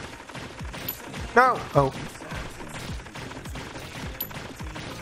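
A burst of video game gunfire, rapid sharp shots over busy game noise, with a brief exclamation from a voice partway through.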